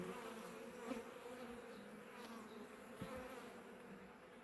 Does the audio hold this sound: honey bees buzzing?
yes